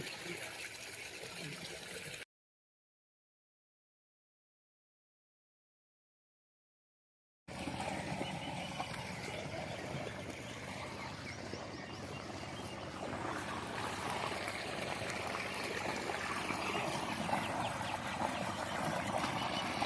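Water gushes steadily from the 3-inch delivery pipe of a 3 hp solar pump on a paddy farm, a constant close rushing that breaks off briefly and then resumes at full strength.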